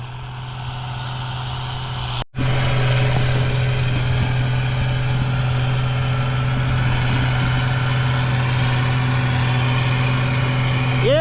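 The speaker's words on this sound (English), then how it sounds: "this here's the machine that we got that has that Deutz air-cooled motor in the thing" A Gleaner combine harvester's Deutz air-cooled engine runs steadily and loudly close by during a dry bean harvest, with a constant low drone and a brief dropout near the start.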